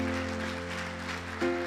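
A church congregation at a Sunday morning Easter service claps in a short, even burst, the applause mixed with sustained musical tones from the stage.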